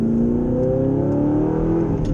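A 2012 Audi R8 V8 with a manual gearbox revs steadily and climbs in pitch as it accelerates, loud and close throughout with no pauses.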